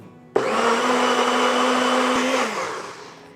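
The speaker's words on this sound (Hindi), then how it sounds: "रस्क बिस्किट और दूध ग्राइंड कर लेंगे।" A blender grinds rusk biscuits with milk, starting with an abrupt whir and holding a loud, steady motor drone for about two seconds before spinning down, close and with no voices.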